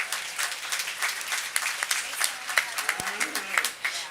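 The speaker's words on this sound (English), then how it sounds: "Let's give him one more round of applause." Scattered applause from a county fair crowd at a market beef show ring, individual claps standing out in an uneven, thinning patter, with a voice or two mixed in.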